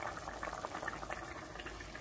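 Beef goulash thinned with added water simmers in a pot, giving a steady, soft bubbling and gurgling that stays faint and even throughout, with no talking.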